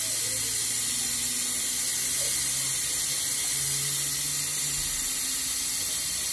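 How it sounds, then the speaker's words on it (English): Tap water pours steadily into a kitchen sink filled with collard greens and vinegar, a constant close rushing hiss with no pauses and no voices. "Well, I got the water running, vinegar's in there."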